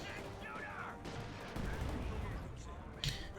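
A US Forces pack howitzer fires as light artillery in a Company of Heroes 2 match against OKW on the Prabuty map. Booms and bursts of gunfire sound mid-distance, with a sharper blast near the end, under a commentator's talk.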